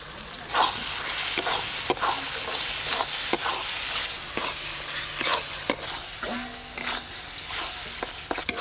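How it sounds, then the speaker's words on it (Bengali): Masala paste with tomato, salt, dried and green chilli paste frying in oil as the oil separates, a continuous close sizzle with repeated sharp spatula scrapes and stirs throughout. "মশলা তো বেশ ভালো করে কষানো হয়ে গেছে, তেল ছাড়া শুরু হয়ে গেছে"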